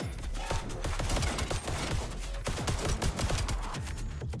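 Dense, continuous gunfire from the weapons in the roguelite shooter Void/Breaker: rapid overlapping shots that form a loud, sustained barrage for several seconds with barely any gap.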